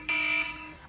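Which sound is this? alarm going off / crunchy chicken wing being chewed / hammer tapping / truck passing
alarm going off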